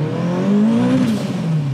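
A 400hp Proton Putra with a stroked 2.2-liter engine and front-wheel drive accelerates hard, its loud engine note rising steadily in pitch, heard close from inside the car.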